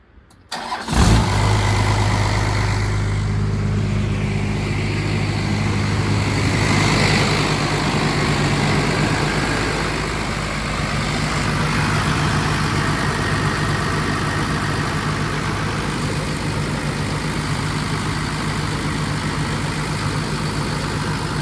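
A big first-generation Cummins diesel truck engine cranks, catches with a roar, and then settles into a steady, loud idle that rumbles on without pause.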